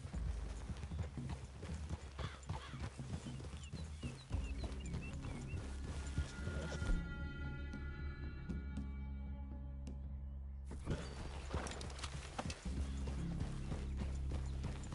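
Horses in Red Dead Redemption 2 walk with a steady clip-clop of hooves on ground, joined by tack and mechanical rattles, with a neigh or whinny in the mix, moderately close throughout.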